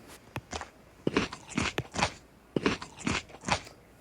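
Crisp crunching bites of sushi in a Toca Boca game, about eight sharp close crunches in irregular clusters with quiet gaps between, no talk.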